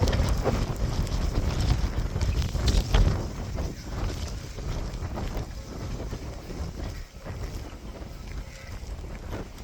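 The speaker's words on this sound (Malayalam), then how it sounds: "നല്ല മഴ കേട്ടാ. നല്ല കാറ്റുണ്ട്," Heavy rain and strong wind sweep across the open Madayipara plateau, a dense, unbroken hiss with gusts that swell and fade, and no talking.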